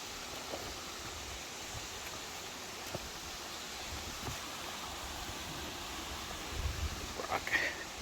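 Lehman Brook flows along a wilderness trail in the 100 Mile Wilderness, a steady broadband rush of water heard at moderate distance, unbroken for the whole stretch, with faint rustles near the end.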